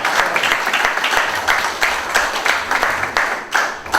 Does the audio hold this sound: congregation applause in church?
yes